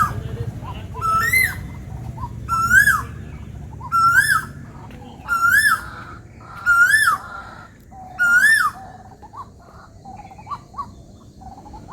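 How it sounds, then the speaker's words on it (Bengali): An Asian koel repeats a rising whistled call about six times at a steady pace, clear against a quiet background, with faint voices and soft sounds beneath. "কোকিল ডাকছে"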